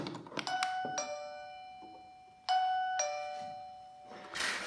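A Saful TS-K508 waterproof wireless digital doorbell chime rings twice, each a clear ding-dong melody of bright, sustained tones that ring out and fade, with a faint clack of handling at the end.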